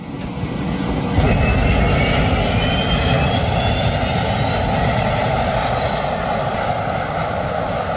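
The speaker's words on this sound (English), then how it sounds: "This jet turned into a flamethrower while starting up." A loud, steady roar of a jet engine spooling up as it shoots flames on startup, with a rising whine climbing in pitch over the continuous rumble.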